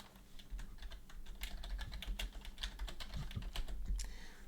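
Rapid, uneven keystrokes on a computer keyboard as Python print code is typed, a steady run of close, crisp clicks with no talking.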